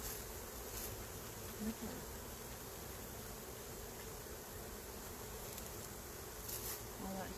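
Honey bees hum in a dense, steady drone around an open hive, close and constant, with a person briefly speaking once and faint handling noises over the buzzing.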